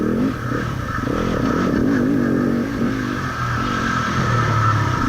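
Dirt bike engine at a hare scramble race, running continuously loud and close with a wavering, labouring low-rev drone as it bogs under gearing that is too tall, with no clean rise in pitch.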